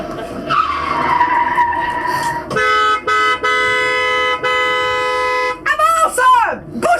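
A reckless car in a staged theatre play roars through traffic, its horn blaring in long steady blasts before tyres shriek in a sharp skid, loud and near, with a voice heard at the start.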